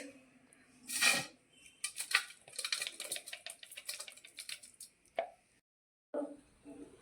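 Edible gum for gundar pak is crushed in short bursts of dry cracking and crunching, with a few separate knocks and a brief pause near the end, moderately close and without talk.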